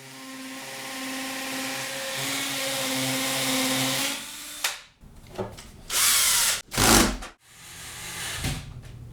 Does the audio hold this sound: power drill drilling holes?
yes